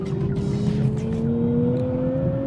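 A 2024 Nissan Z NISMO pulls hard down a race track straight at around 175 to 180 km/h, its engine holding a steady, rising drone with strong low rumble heard from inside the car, no talking.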